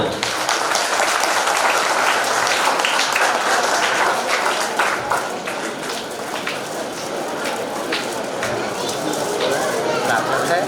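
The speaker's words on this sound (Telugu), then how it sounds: "ఒకసారి చప్పట్లతో" A crowd at a public irrigation inauguration event in Palakollu claps loudly and continuously, a thick wash of applause that dips briefly midway and then swells again.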